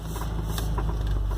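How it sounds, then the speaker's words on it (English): A 1980 Mercedes-Benz 280TE with a manual transmission, heard from inside as it drives along, giving a steady engine drone with a faint metallic exhaust rattle. The rattle appeared after an exhaust donut gasket was replaced. "so you can hear a little bit of exhaust rattle."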